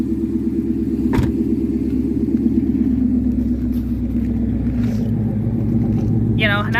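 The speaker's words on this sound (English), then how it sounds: "Just as soon as the startup happens, it is one heck of an exhaust note" A 2014 Ford Mustang GT idles just after startup, its V8 exhaust note a steady deep low rumble close to the microphone, with a few faint clicks and a brief sharp noise over it.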